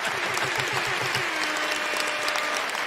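Canned applause effect played during a sports betting show: a dense, steady burst of clapping that holds at an even level throughout, with no talking over it.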